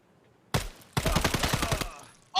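A sharp close gunshot in Escape from Tarkov cracks out, then a longer rapid burst of automatic fire rattles for about a second, followed by another loud shot at the end.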